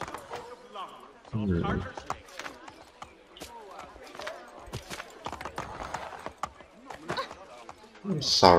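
In Assassin's Creed III, a horse clip-clops along in a steady run of hoofbeats. Talk comes and goes over the hooves, and there are sharper bursts near the start and end.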